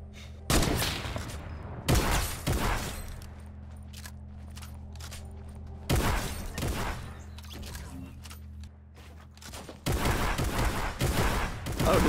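Bursts of gunfire in the video game Fortnite come in several loud, sharp volleys separated by quieter gaps of game ambience.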